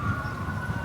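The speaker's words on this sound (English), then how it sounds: "Ambulance." An ambulance siren wails steadily in the distance on a Philadelphia street near a former ballpark site, a continuous tone with traffic rumble underneath.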